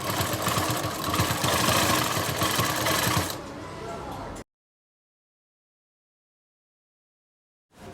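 A sewing machine stitches a strap onto a kurti with a steady, fast mechanical whir for about three seconds, then runs quieter before stopping, followed by a long silence.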